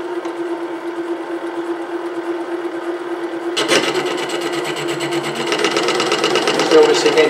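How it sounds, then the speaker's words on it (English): An SC2 mini lathe hums steadily, then a scraping, rasping cutting sound begins as it turns a large aluminium piece in an interrupted cut, close and fairly loud. "turn a large piece of aluminium"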